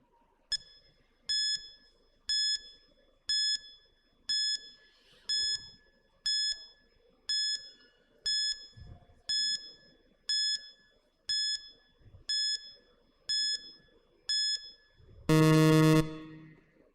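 A quiz-show timer alarm sounds a dozen evenly spaced bright electronic beeps, each short and tonal, ticking off the seconds before ending in a louder, longer buzz. The beeps ring out alone against faint background noise.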